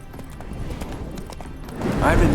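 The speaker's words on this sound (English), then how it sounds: "Spooking my horse." Hoofbeats clatter in a steady trot, and a horse lets out a high whinny near the end in the video game The Witcher 3, with a voice talking over much of it.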